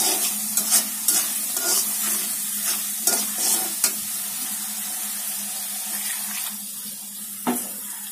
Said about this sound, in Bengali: আমার মশলাটা ভাজা ভাজা হয়ে গেছে